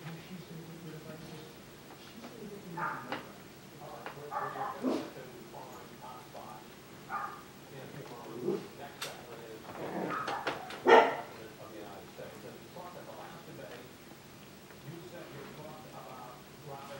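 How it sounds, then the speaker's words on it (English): Five-week-old puppies bark and yip in scattered short bursts, small and moderately near, while a person talks at intervals. "there are Eliza's puppies, 5 weeks old."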